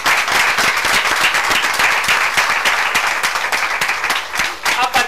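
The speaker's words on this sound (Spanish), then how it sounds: "¡Un aplauso a cada una de ustedes!" A room of women entrepreneurs at a meeting bursts into dense, steady applause, with many hands clapping loudly and continuously throughout, a few scattered shouts rising within the crowd noise.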